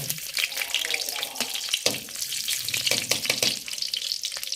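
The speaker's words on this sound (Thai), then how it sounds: "มาเริ่มผัดกันเลยจ้า" Cauliflower stir-fried with fried garlic in a pan, giving a dense close sizzle broken by repeated sharp scraping strokes, with a voice faintly underneath.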